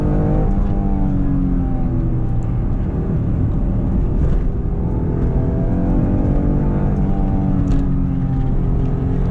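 A 1996 Acura NSX engine pulls hard while driving, a loud continuous rising drone with layered harmonics that climb and dip through the run, close and steady with no talk.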